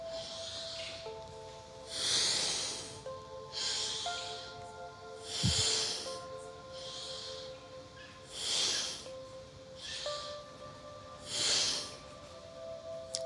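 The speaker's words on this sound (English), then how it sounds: "Inhale up, exhale down." Deep yoga breathing: slow, forceful inhales and exhales through the nose, roughly every one to two seconds, hissing and close, over a soft sustained instrumental music bed.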